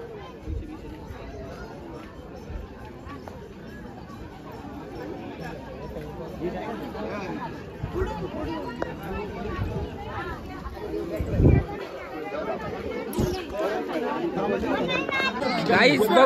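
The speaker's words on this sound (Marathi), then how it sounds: "लोक म्हणजे महाप्रसाद खाण्यासाठी एवढी गर्दी करते" A dense crowd gathered for the Mahaprasad feast at a Champashashti festival fills the space with continuous overlapping chatter and babble, voices close and far, swelling louder toward the end.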